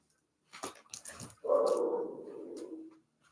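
Dog in a yard giving a few short barks, then a longer drawn-out growling bark or whine lasting over a second, moderately close but recorded at a fairly low level.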